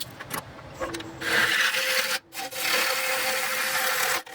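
Ashley Harwood 40/40 bowl gouge cutting a wooden bowl on a lathe, a loud, steady rasping shear that drops out briefly partway through and then resumes, with no talk.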